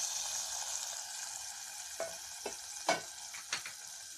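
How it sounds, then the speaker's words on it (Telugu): Curry leaves, turmeric and asafoetida sizzle in hot oil for a tomato toor dal, a steady close hiss broken by several distinct stirring scrapes, with no talking. "కరివేపాకు వేస్తున్నా. పసుపు వేస్తున్నా. కొంచెం ఇంగు వేస్తున్నా."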